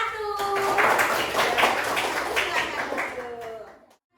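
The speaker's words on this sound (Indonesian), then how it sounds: "beri tepuk tangan untuk kelompok 1" A class of children claps for a group in a primary school lesson, a dense spatter of hand claps lasting a few seconds, with a voice heard briefly before and after, then stopping abruptly.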